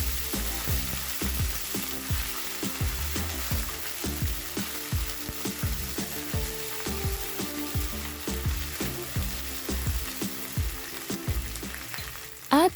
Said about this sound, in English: Saute it slowly on low flame.